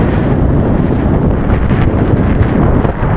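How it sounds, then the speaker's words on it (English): Strong wind at a slope soaring site buffets the microphone in a loud, constant rumbling roar with gusty surges and no pause. "But pretty sure this is enough wind"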